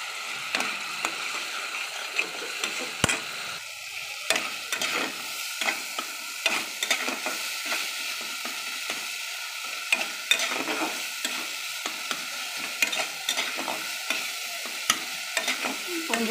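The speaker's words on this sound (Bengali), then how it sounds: "বন্ধুরা আমার মশলাটা ভাজা ভাজা হয়ে এসছে" Spice mix of garam masala and ground coconut paste frying in a pan, a steady sizzle broken by repeated scraping and stirring strokes of a spoon, close and fairly quiet with no talking.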